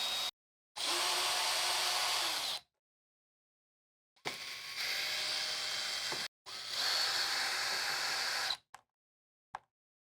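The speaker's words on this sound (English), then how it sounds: "Next, remove the screws attaching the filter grill to the air conditioner." A power drill whirs in three sustained bursts of a few seconds each, backing screws out of a Furrion rooftop air conditioner's filter grill, with short silences and faint clicks between bursts.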